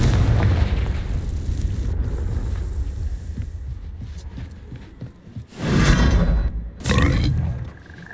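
A Confringo fire spell bursts in the Hogwarts Legacy video game, a loud booming explosion over a rumbling battle din, followed by two more heavy blasts near the end.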